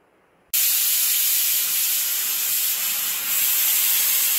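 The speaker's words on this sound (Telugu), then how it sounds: "విజిల్ వచ్చింది, ఇప్పుడు స్టవ్ ఆఫ్ చేస్తున్నాము" A pressure cooker on a stove, cooking whole green gram, bursts into a loud, steady steam hiss after a brief quiet moment, then keeps blowing continuously and close by.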